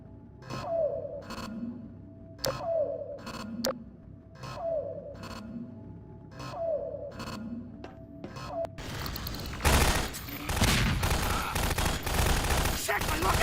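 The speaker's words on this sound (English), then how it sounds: "Dr. Freeman, you take care of the turrets" Automated turret gunfire in Half-Life 2 Episode One or Two. Regular pinging, pulsing game sounds give way midway to a loud, dense, continuous burst of rapid shots that fills the rest of the clip.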